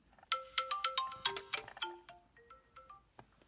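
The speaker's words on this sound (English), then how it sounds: "That's my alarm." A phone alarm chimes a quick, bright melodic ringtone, a run of tinkling tones that repeats once, fairly close and clear.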